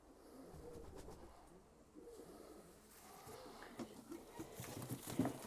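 Soft, low pigeon coos rise here and there against faint rustling and shuffling, quiet and close, with occasional wing flutter or patter.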